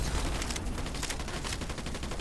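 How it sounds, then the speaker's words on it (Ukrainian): Dense gunfire nearby in the video game Fortnite rattles as a continuous fusillade of rapid shots, steady and moderately loud with no talking over it. "Десь тут поряд стрілянина."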